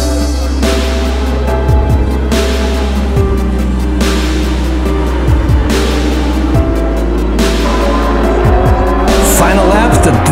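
Superbike race motorcycles scream past at full throttle on the final lap, with engine notes rising and falling in repeated waves as bikes go by, over a steady loud crowd and commentary bed.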